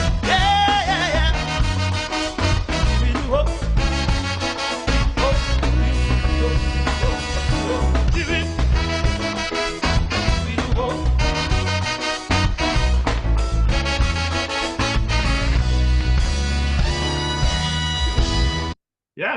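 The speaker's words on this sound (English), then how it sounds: "Yes, that's the sound of sister singing" A recorded song sung by a female singer, a full band arrangement with steady bass and drums playing loud and continuous, cutting off abruptly at the end.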